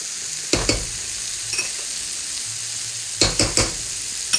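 A spoon stirs butter through cooked polenta in a pot, with soft scraping knocks in two clusters over a faint background sizzle, no talking.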